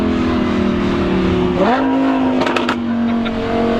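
A Lamborghini Huracan with an aftermarket Ryft exhaust idles loudly, then revs up sharply to a higher pitch and holds, with a few crackling pops from the exhaust.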